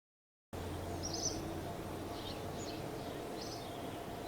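Birds chirping in the Kerbal Space Program video game, a few short, faint, high chirps spaced over a quiet ambient hum, starting after a moment of silence.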